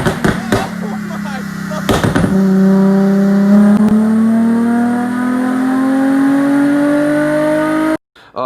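A tuned Nissan 350Z drift car revs up sharply with exhaust pops, then holds a rising, sustained roar before cutting off suddenly near the end.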